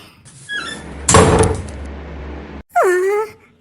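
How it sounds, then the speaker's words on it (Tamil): A cartoon door swinging shut: a creaking slide, then a loud whooshing thud that rings on for a second, followed by a long falling squeaky wail, all close and loud with no speech. "கதவை சாத்திட்டாங்க."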